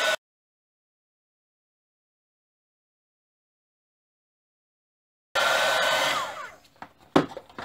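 A heat tool blows on embossing powder, a steady whooshing hot-air roar that starts abruptly after a long silence and then cuts off, followed by a few clicks and knocks.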